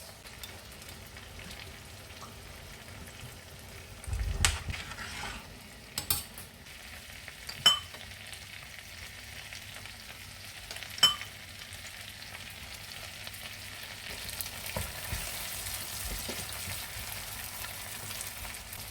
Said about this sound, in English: let's add in our red onion and fry it